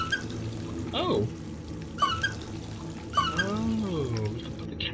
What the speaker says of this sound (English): we can put the can underneath the hot water